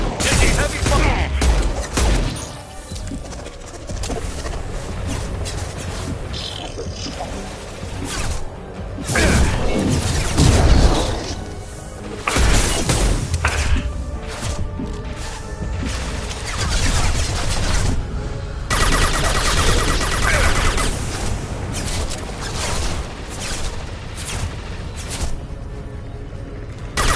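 Heavy gunfire and crashing impacts rage through a Mass Effect Legendary Edition firefight, with dense, continuous bursts and booms that stay loud for the whole stretch.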